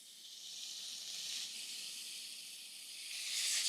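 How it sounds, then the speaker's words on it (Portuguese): Wine sizzles as it is poured into a hot pan to deglaze a sauce for beef Wellington, a steady close hiss that swells louder toward the end, with no talking. "Agora eu coloquei o vinho para deglaçar e unir todos esses sabores."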